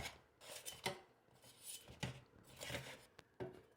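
Egg rolls being flipped in a metal air fryer basket give off a few scattered scraping, clinking and tapping sounds, close by and fairly quiet, with brief pauses between handling noises.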